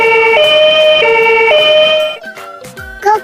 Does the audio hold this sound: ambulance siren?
yes